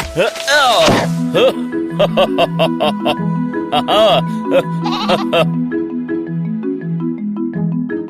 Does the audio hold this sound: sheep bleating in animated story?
yes